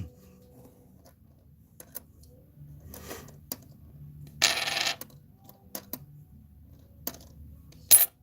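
Australian 20-cent coins are handled and dropped in scattered metallic clinks and clatters, with a short louder rattle of coins midway and a sharp clink near the end, close up over a quiet background.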